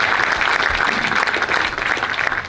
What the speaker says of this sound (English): yes, you can give a round of applause.